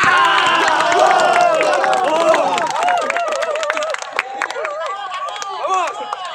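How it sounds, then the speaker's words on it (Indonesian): At a football tournament closing event, a lively crowd cheers and claps with overlapping shouts and excited voices, loud at first and thinning slightly toward the end. "Tepuk tangan lagi sekali lagi."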